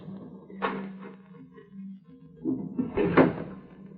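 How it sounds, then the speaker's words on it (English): Doors opened in an old radio drama, heard as two bursts of creaking and knocking handling noise roughly two seconds apart, fairly close, over a low background hum. "Open those doors."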